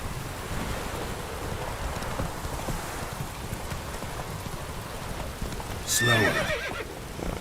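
A horse gallops in The Witcher 3, continuous rapid hoofbeats under wind-like ambience, ending with a loud whinny near the end.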